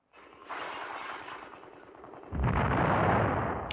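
Sustained, dense gunfire in wartime street fighting as troops fire by surprise from houses and gardens, a rattling barrage that swells suddenly louder and heavier after a couple of seconds, continuous with no voices.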